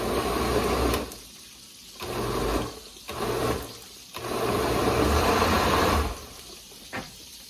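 A kitchen appliance is pulsed on its grind setting in a ranch barn kitchen, giving several short whirring bursts of about a second each, separated by quiet pauses, with one longer run near the end.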